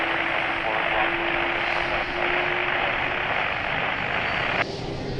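An airliner rolls for takeoff at Lisbon Airport, a loud, broad engine roar with a steady whine, somewhat distant and continuous, beneath intermittent radio chatter.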